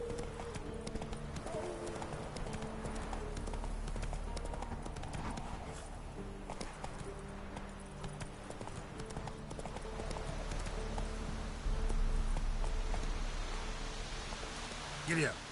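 Roach, a horse in The Witcher 3, gallops with steady rapid hoof clip-clops under game music and ambience, with a brief neigh and someone talking over it.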